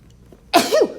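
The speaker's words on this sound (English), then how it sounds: "I'm about to sneeze" A single sneeze bursts out close and loud, a sharp explosive onset followed by a brief voiced tail, after near silence.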